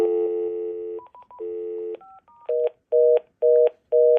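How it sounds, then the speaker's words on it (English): Dial tone and keypad tones from a Panasonic DECT baby monitor handset: a steady tone, a quick burst of short dialing beeps, another steady stretch, then a series of four evenly spaced loud beeps, clear and close with no talking. "make this dial tone loud enough."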